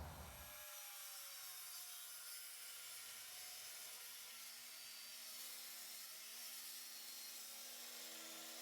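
Wood pieces being cut for a car audio podium box, a steady continuous sawing and rubbing sound with a bright, hissy texture that runs unbroken and fairly close throughout, with no talking.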